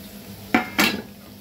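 Two sharp metallic clanks of a spoon against a pan ring out over a faint background hiss while chopped tomato and capsicum are stir-fried for pav bhaji.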